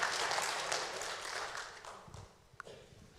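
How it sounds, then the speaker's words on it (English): Audience at a Vanuatu community fellowship in Mildura applauding, a dense wash of many hands clapping that starts strong and gradually thins out over a few seconds, with a few scattered claps near the end. "Clap your hands if you're proud to be Vanuatu."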